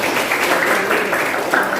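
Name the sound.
class applause for a student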